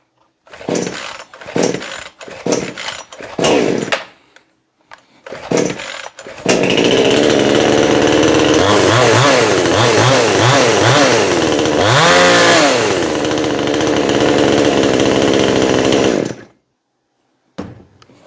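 A chainsaw, nicknamed the Orc Slayer, is pull-started after a few short tugs and then roars at steady full throttle for about ten seconds, revving up and down a couple of times before cutting off abruptly.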